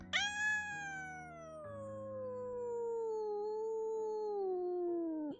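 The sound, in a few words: unhappy cat yowling and meowing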